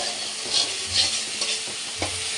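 A mustard and poppy seed curry fries in oil while being stirred, with a continuous crackling sizzle broken by a few soft scraping strokes of a spoon through the pan.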